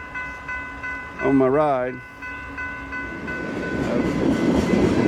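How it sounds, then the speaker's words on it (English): A train rolls past near a bike trail while a cyclist waits, its horn sounding loud for a moment with a bending tone before a steady rumble builds and grows; someone speaks briefly over it. "you get to see me wait on a train while I'm on"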